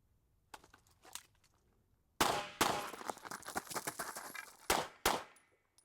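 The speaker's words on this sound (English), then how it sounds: "Just draw 2 rounds on the first target, get into the next position, 2 rounds on the next." Pistol live fire at a practical shooting drill: two quiet early shots, then loud close reports come in pairs with a brief gap between pairs and ringing steel target hits mixed in, outdoors with no talking.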